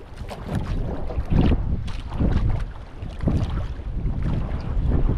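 A small Filipino bangka fishing boat moving on open water, with a steady rushing, splashing rumble and heavy wind buffeting the microphone throughout.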